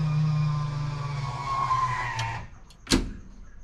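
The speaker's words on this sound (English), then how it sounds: "let's just turn the ECU on and prime it a few times till we hear everything go good" Electric fuel pump priming on a V6 turbo Ecotec engine running E-85, giving a close, steady whine for about two and a half seconds that cuts off into a brief clunk.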